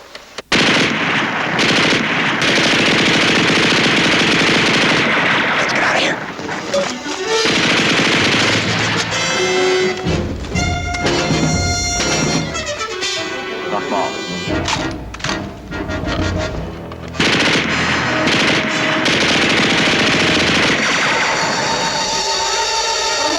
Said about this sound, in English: Feuer eine Runde.